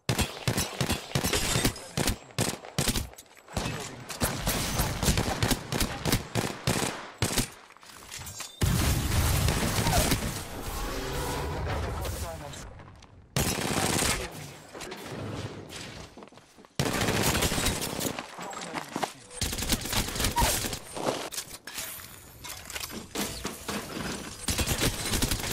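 Rapid automatic gunfire in Apex Legends, loud sustained bursts of shots with brief pauses between strings, close and dominant throughout.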